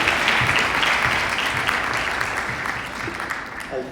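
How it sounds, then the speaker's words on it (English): Loud, close applause from an audience at an impact summit: a dense burst of clapping that gradually fades, with a voice briefly emerging at the very end. "Big round of applause for Farushka"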